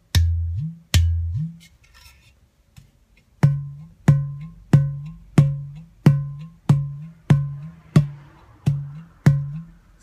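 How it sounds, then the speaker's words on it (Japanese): An udu clay drum struck over its central hole gives about a dozen deep, booming strikes that swell in pitch. Two come first, then a short pause, then a steady evenly spaced series, each ringing out alone. "ウドゥの特徴である、この中央の穴ですね、ここを叩くと、"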